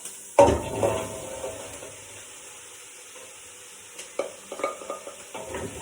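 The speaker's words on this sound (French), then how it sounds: "Nos oignons sont pas trop mal, ils commencent à dorer." Onions browning in a pot for an autumn soup, with squash being added, opening with a loud clatter and sizzle, then a quieter simmer before a run of stirring scrapes and knocks, close with no talk.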